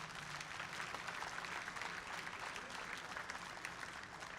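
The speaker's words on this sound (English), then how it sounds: "So please give them a huge round of applause." An audience at a district robotics event's opening ceremonies gives a steady, dense round of applause for the event volunteers, sustained and even throughout, heard from within the crowd.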